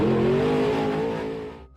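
Car in the Bus Eater video game accelerating hard, a loud rising engine whine with a slight pitch sweep, then fading out.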